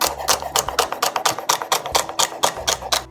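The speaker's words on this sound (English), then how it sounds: "I'm going to get 1 large stalk of celery and just chop it up nicely" Knife chopping a large celery stalk on a board, a quick steady run of crisp close cuts, about a dozen taps in a few seconds.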